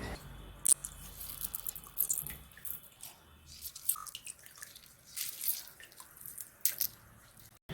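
Orange juice squeezed by hand into a cooking pot while making vegetable biryani, heard as faint, scattered drips and small splashes over a quiet background with no talk.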